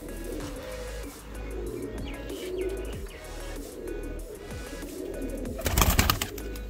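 Baby pigeons about 34 days old coo softly inside their box. Repeated low, gentle calls mix with a few chirps, and a brief louder rustle comes near the end.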